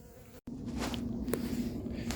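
A steady low insect buzz hums throughout, like honeybees droning close by at an apiary during feeding, with a brief dropout near the start.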